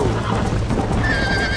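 A horse in Red Dead Redemption gives a loud, close neigh over its clip-clopping hooves, a short whinny rising and then sustained near the end, with no talking.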